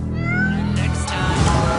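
A cartoon cat meows in a trailer for the animated film Soul, giving a strained, rising meow up close that ends in a noisier, rougher burst.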